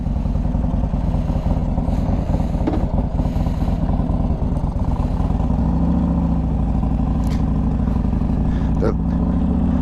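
A motorcycle fitted with an S&S 124 engine rides along with a constant loud, rumbling engine drone and rattle throughout, road and wind noise mixed in.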